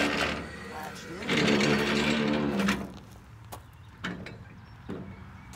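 A New Holland 495 haybine swings over as it folds, a sustained loud mechanical rumble and grinding that runs for a few seconds and then drops to lighter clanks and a few sharp knocks as it latches.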